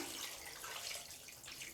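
A cup of water is poured steadily into a pressure cooker holding country chicken for biryani, a continuous soft splashing rush with no talk.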